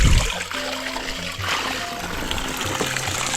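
Water draining out of a village water tank onto garden plants, a continuous close splashing and trickling flow with gurgling pours throughout.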